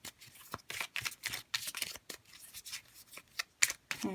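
Tarot cards being shuffled and drawn by hand, a steady run of crisp riffling and flicking bursts, close and fairly quiet, with no talk.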